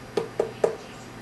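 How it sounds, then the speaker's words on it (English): Three evenly spaced hollow knocks from a hand on a ripe watermelon ring out close and clear, each a resonant thump with a short decay, and no one talks over them. "Does it sound like it's a good hollow knock?"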